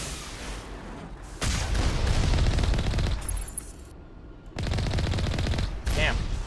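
Gunfire in Mass Effect: bursts of rapid, loud shooting come and go in several stretches with brief lulls between them, close and harsh.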